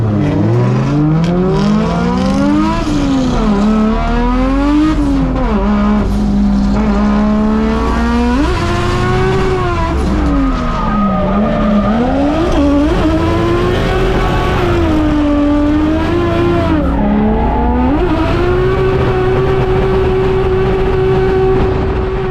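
A race car opens its first lap on a track, the engine loud and close, revving hard and climbing through gears with sharp drops at each shift, winding up and down continuously with no talking.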